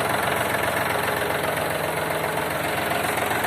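A Yanmar AF-24 Japanese tractor's engine idles nearby with its cover open, giving a steady, loud, rattling chug that never changes.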